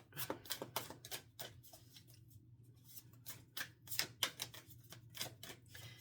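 Quick bursts of crisp tarot card riffling and snapping, close and fairly quiet, repeating in short irregular runs with brief pauses between.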